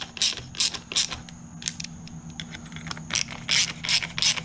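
Ratchet clicking in quick repeated bursts as the handle on an Echo SRM 2620 string trimmer is tightened down, close and crisp, with a short pause mid-way before the clicks resume.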